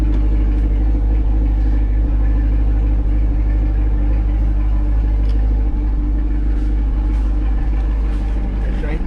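A C8 Corvette idles with the exhaust close by, a deep steady rumble and low throb holding constant throughout.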